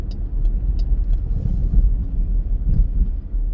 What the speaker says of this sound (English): That's how loud these fucking cars are.